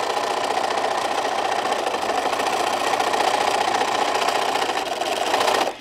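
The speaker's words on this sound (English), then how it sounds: "we're gonna stitch this side down" A sewing machine runs continuously, stitching the side seam of a drawstring bag with an even, rapid mechanical buzz that holds for several seconds and then stops abruptly.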